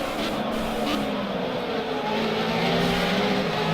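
Onboard engine of a Formula Renault 3.5 race car at Silverstone, a loud sustained high-revving whine with steady harmonic bands filling the whole clip, no speech.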